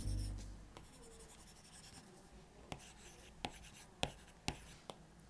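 An Apple Pencil-style stylus scratches and taps on a Paperlike matte screen protector on an M1 iPad Pro, with soft scribbling strokes punctuated by several sharper ticks, close and quiet with no talking.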